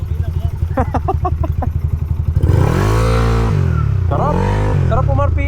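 A Yamaha NMAX v2 scooter idles with a close, chugging rhythm, then its engine is revved hard into a loud, rising roar, with a second rev that dips and climbs again near the end.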